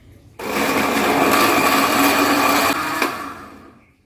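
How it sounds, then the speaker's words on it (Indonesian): A kitchen blender purées purple sweet potato with water for a layered pudding, a loud, steady whirring grind that starts abruptly and runs for about three seconds before tapering off, with no talking. "kita tutup, kita blender sampai halus"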